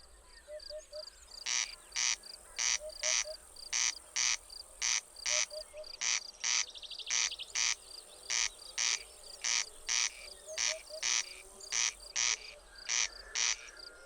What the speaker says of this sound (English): territorial corncrakes constantly call from dusk to dawn with their loud, mechanical, two-syllable hoarse croaking